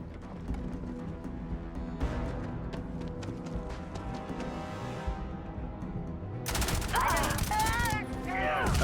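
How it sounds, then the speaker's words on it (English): Pistol gunshots in the Starfield game ring out as a rapid run of sharp cracks over dense in-game noise, with a voice talking partway through. "Powerful pistol, I see."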